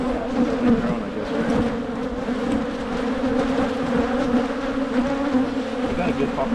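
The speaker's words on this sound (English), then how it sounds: "I'm going to steal this with the nurse bees on there" Nurse bees on a hive frame during early spring colony work produce a dense, steady close-up buzzing hum, a continuous drone of many insects with slight swells in intensity.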